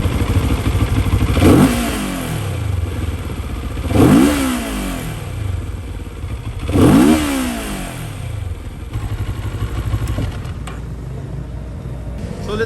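A CFMoto 700CL-X motorcycle engine at close range, idling steadily between three sharp throttle blips that rise and fall in pitch, then settling back to a smooth idle.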